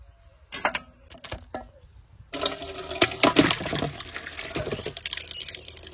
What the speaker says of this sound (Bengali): চারবার তো ধুয়ে নিয়েছি মাছটা